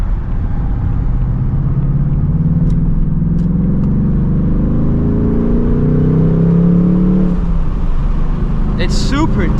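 A loud, close 2024 Ford Mustang GT S650 on its stock exhaust revs up in deep rising sweeps, holds, then drops back as the engine settles, with a few faint clicks and a short high burst near the end.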